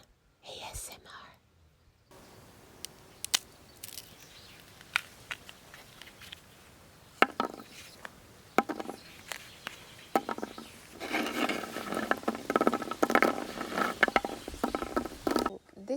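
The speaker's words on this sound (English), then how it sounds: "And now for some bean ASMR." Broad beans freshly harvested from a kitchen garden are handled close up. Soft whispering comes first, then brisk rustling and crackling of pods fills the last few seconds.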